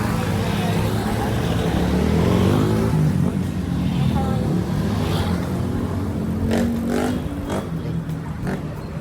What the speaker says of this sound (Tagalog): Yan yung mga sasakyan dito.